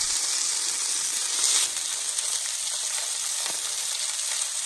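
Skin side of a thick salmon fillet frying in a pan, giving a steady, loud, close sizzle and hiss that continues without a break.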